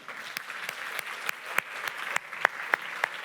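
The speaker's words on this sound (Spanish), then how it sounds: "dense un aplauso a ustedes mismos" Workshop participants in a room applaud themselves, a modest burst of clapping with several sharp, distinct claps standing out near the end, steady and moderately close.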